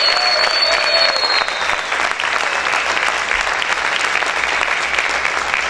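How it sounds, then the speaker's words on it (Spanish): A church congregation claps loudly and steadily for several seconds, a dense sustained wave of hands with a brief high tone at the start. "Dale ese fuerte aplauso al Señor en esta hora."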